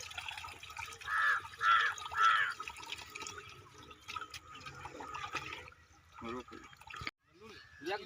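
Water runs into a field irrigation channel with a continuous trickling and dripping flow, heard under ongoing talk from nearby people.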